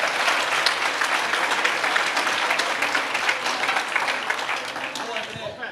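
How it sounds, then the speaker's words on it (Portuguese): A church audience applauds steadily, many hands clapping in a dense, sustained wash that stays loud throughout and tapers slightly at the end. "Você pode dar uma salva de palmas para a Margarete?"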